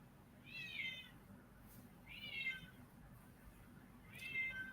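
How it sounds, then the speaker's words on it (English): Several cats meow in turn, three distinct calls spaced a couple of seconds apart, moderately close and clear over a quiet indoor background. "I can hear my cats answering the questions."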